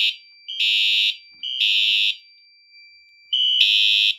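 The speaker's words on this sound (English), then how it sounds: "But when I open it, it is going to trigger the alarm." A fire alarm set off by an FCI pull station sounds in loud, steady electronic horn bursts, each about half a second long with short gaps, repeating close by.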